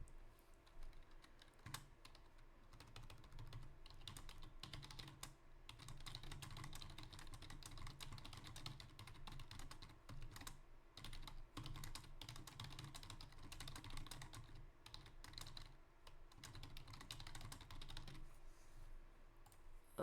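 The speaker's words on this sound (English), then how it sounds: "But let me finish typing." Steady keyboard typing runs throughout, a dense stream of quick key clicks at moderate volume with a low background hum underneath.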